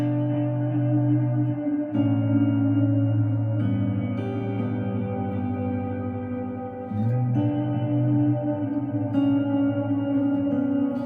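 Sustained electric guitar chords through a Kemper profile swell in softly and ring out with a washy, echoing delay, shifting between chords in a slow, ambient drone.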